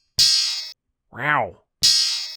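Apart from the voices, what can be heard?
sampled polyphonic chord with a bell-like tail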